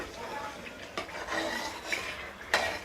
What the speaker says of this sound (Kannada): ಶುಂಠಿ ಬೆಳ್ಳುಳ್ಳಿ ಪೇಸ್ಟನ್ನ ಹಾಕ್ಕೊಂಡು ಈ ರೀತಿಯಾಗಿ ನಾವು ಬೆರೆಸ್ಕೊಳ್ಳೋಣ